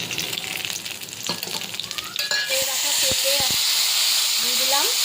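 Cumin seeds, dry red chillies and bay leaves hit hot mustard oil in a kadai, breaking into a loud, steady sizzling hiss midway after a few seconds of a voice speaking and utensil clatter.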